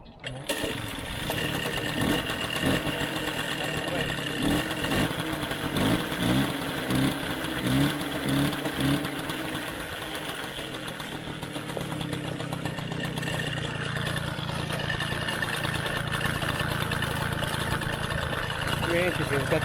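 A Peugeot Vogue moped engine starts and settles into a steady idle. A rhythmic chugging is heard early, then a continuous buzzing drone runs throughout at moderate loudness.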